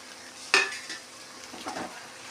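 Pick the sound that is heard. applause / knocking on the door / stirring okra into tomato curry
stirring okra into tomato curry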